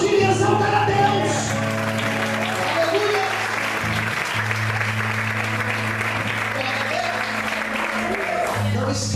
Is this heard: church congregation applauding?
yes